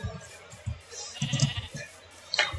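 A sheep in Minecraft gives a couple of short bleats, with quiet game sounds and small clicks around them.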